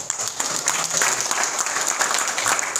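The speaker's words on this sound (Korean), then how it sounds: "많은 박수 부탁드리겠습니다." Audience applause at a Pyeongtaek political school talk concert, steady dense clapping from a hall crowd filling the whole stretch without a break.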